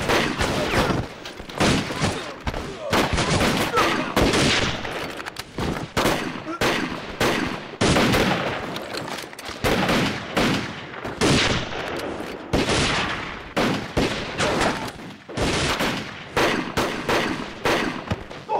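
Rapid bursts of gunfire crackle through a shootout in a Vietnamese-dubbed kung fu action film, dense volleys with short pauses between them.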